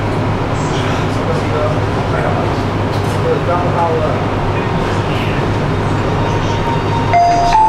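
A Wuxi Metro Line 1 train in its underground section pulls away, with a loud, steady low rumble and hum inside the car as a voice announcement plays over it.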